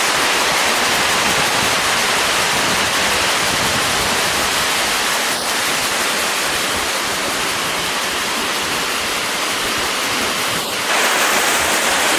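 Soochipara waterfalls pours with a constant, loud roar of rushing water, close and unbroken, with faint wind buffeting the microphone now and then.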